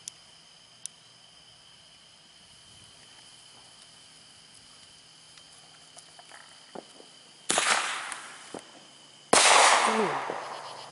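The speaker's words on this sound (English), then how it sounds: "So we got a lot more firecrackers than we usually do." Two loud bursts of firecracker explosions crackle near the end after a quiet stretch with faint insect chirping and a few small pops.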